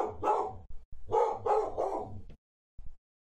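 A dog barks in several loud, close bursts in quick succession, followed by a short pause and one last brief bark.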